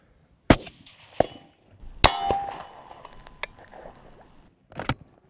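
A long-range rifle shot followed by a sharp metallic clang of the bullet hitting a steel target, several distinct ringing impacts spread over a few seconds in open outdoor air.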